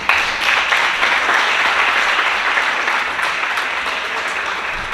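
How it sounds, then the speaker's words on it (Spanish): A crowd breaks into loud, sustained applause, dense clapping that holds steady and then gradually eases off. "pedir un aplauso también para la organización"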